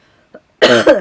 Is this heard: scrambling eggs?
no